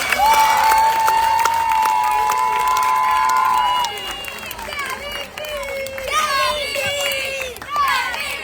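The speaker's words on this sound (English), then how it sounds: "Keep clapping, guys. Keep clapping." An audience applauds and cheers at a school carnival's closing award ceremony for squash, with sustained clapping, shouts and a shrill whistle-like tone, while voices call out over the crowd.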